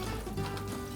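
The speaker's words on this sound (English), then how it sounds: "750 milliliters of vodka going straight down to the middle." Vodka pours into a drinks dispenser in a steady, gurgling stream, quiet and close, without any talking.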